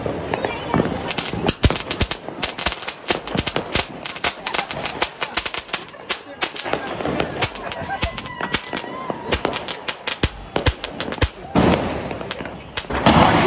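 Diwali firecrackers going off, a dense run of sharp cracks and bangs, some near and loud, others farther off, with voices talking in between.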